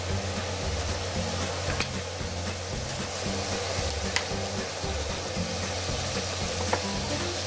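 Chicken vegetable macaroni sizzling and frying in a pan just after vinegar is poured in, a steady hiss with faint occasional ticks throughout.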